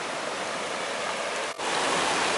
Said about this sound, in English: I just had to drive to the middle of the ford to see the little bubbling brook